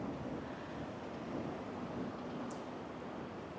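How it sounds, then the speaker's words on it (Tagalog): Strong wind buffets the microphone during an outdoor bike ride in Taiwan, a steady broadband roar that lasts throughout with no talk. "At para lakas ng hangin"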